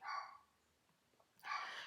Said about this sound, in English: Excuse me if you can hear my dog barking.